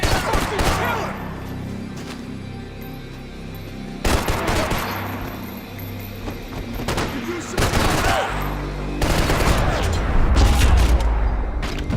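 Heavy bursts of automatic rifle fire and booming shots in the shooter game Max Payne 3, loud and dense, with shouted voices over the firefight.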